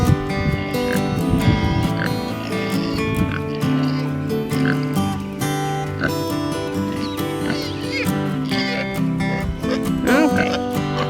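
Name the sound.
kunekune pig grunting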